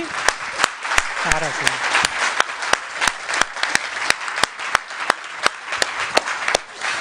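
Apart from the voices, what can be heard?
audience applause for Beatriz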